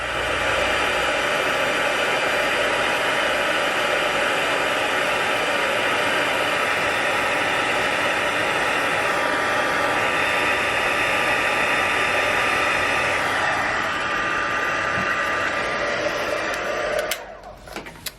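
A heat tool melts embossing powder on a craft card, blowing a loud steady whooshing hiss with a faint whine for about seventeen seconds before clicking off.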